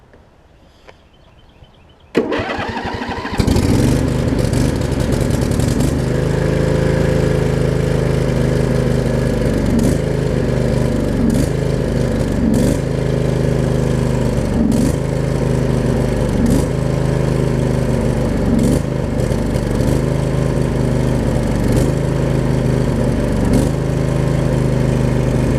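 A Craftsman riding mower's Briggs & Stratton V-twin, cold, is cranked after quiet clicks and catches within a few seconds, then runs loud and close with a rough, steady idle that has faint periodic pulses.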